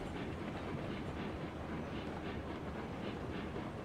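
A locomotive hauling a heavy train uphill in the RailRoads Online game, a dense continuous rumble with faint rhythmic wheel clacking, steady and loud without voices.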